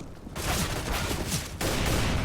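Rapid gunfire from Counter-Strike: Global Offensive, a dense burst of shots running almost continuously, loud and close, with a short dip in intensity partway through and no speech.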